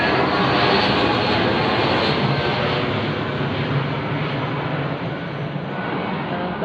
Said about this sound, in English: They are actually legitimate military jets.